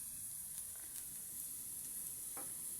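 Sizzling in a pan over a wood fire with a steady faint hiss and a few soft stirring clicks, heard from a little distance.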